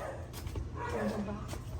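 A dog gives a couple of quick, short barks and yips close by, with a voice murmuring in the background.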